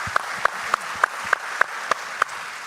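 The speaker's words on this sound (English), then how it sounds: "So please give Eric a round of applause." Claps from a church audience at a faith-based candidate forum, a steady run of about eight evenly spaced, fairly crisp claps at a moderate distance, with no talking over them.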